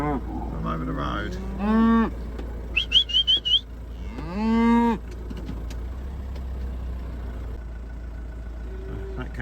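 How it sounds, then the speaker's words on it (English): Cattle on a farm moo loudly at close range, including a cow that calved this morning, with two long drawn-out calls and a burst of short whistles between them over a low background rumble. "That cow there's one that calved this morning."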